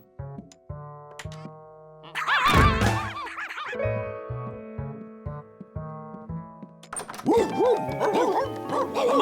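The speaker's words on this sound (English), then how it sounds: "George, there are like 20 dogs in here." Cartoon dogs bark and yip in several short bursts over bright background music in a busy animated scene, with a louder cluster of yelps partway through and more barking near the end.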